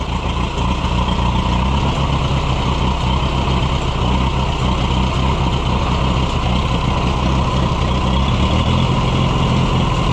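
A Case VAC tractor engine runs roughly and steadily at close range, a loud, continuous rumbling chug with no pauses across the whole stretch.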